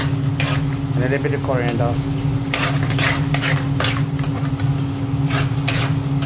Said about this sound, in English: It's all going in here now. As you can see. Stir it up.